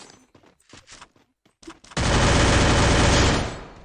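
Dense automatic gunfire in a shooter video game strikes the player, a loud sustained burst that bursts in after brief scattered shots and quiet talk.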